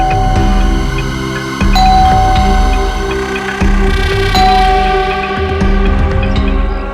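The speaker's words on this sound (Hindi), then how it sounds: "डोरबेल क्यों बजा रही है?" A doorbell rings repeatedly at a home's front door, sounding several loud ding-dong chimes in quick succession with ringing tonal decay, close and dominant.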